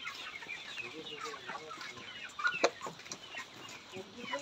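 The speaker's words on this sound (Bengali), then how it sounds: "এইখানে আমাদের মুরগিগুলো আছে।" Layer hens in a poultry farm shed cluck steadily, with many overlapping soft calls and a louder burst partway through. Someone speaks quietly under the flock.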